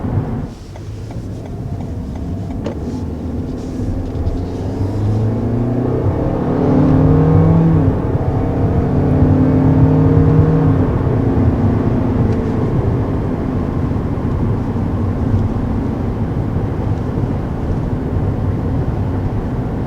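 A 2020 Toyota Corolla Hatchback accelerates hard, its engine drone rising steadily in pitch and loudness before levelling into a sustained whir, heard from inside the cabin alongside road noise.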